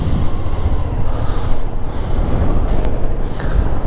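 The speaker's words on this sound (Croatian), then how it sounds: "Vjetar još uvijek dere" Strong wind buffets the microphone on a river boat trip, making a loud, constant low rumble and roar with no speech.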